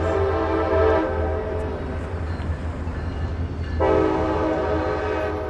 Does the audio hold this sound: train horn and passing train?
yes